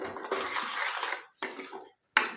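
Utensils clink and scrape against a pan while onion paste and tomato puree are sautéed for a rustic village-style egg curry, three short bursts of clatter separated by brief silences.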